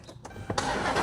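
A car engine cranks briefly and catches, settling into a steady, loud idle close by in a garage setting where brakes are being worked on.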